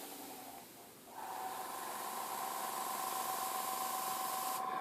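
An airbrush hisses in a continuous close spray, starting softer and then opening into a steady, stronger stream that holds to the end.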